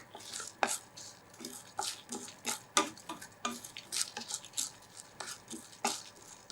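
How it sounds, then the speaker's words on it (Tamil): Garlic and shallots roast in a pan, stirred with a utensil that scrapes and taps the metal in an irregular string of soft clacks over a quiet background. "இது ஒரு நல்ல ஒரு கோல்டன் ப்ரௌன் வரணும், நல்ல வாசனை வரணும், அந்த அளவுக்கு வறுத்துக்கணும்."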